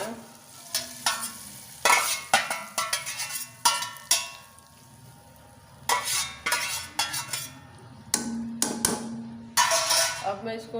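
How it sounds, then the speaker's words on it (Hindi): Hot baghar tempering is poured into dal chana fry. Bursts of loud sizzling and frying alternate with metal spoon clinks and stirring against the pot, in irregular close-up pulses with no talk. "बघार हमारा तैयार हो गया। अब हम इसको डाल रहे हैं।"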